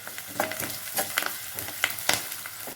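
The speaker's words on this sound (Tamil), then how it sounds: "வெங்காயத்தை நல்லா வணக்கிக்கலாம்" Onions and curry leaves sizzle and crackle in a hot pan, with soft scraping and stirring strokes coming at irregular moments, close up and without any talking.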